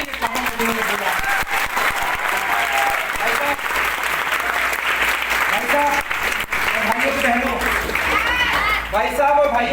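Seminar audience in Amravati applauding loudly and continuously, dense clapping sustained throughout with some crowd noise mixed in.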